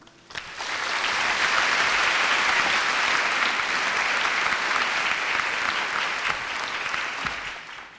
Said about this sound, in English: So let's have the warmest applause for Professor Wagner, please.